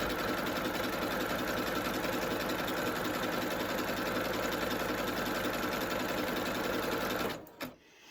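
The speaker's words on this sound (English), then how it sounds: "so with mine I've got a lock stitch, so I'm just going to do a lock stitch, and then I'm just going to zigzag" A sewing machine with an open-toe applique foot runs steadily, stitching a lock stitch and then zigzag, a fast even mechanical chatter close by that stops abruptly near the end.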